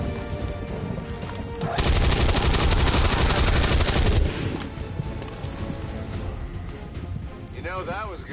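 Rapid automatic gunfire in a video game: a loud, dense burst lasting a couple of seconds, then quieter game sounds with voices in the background.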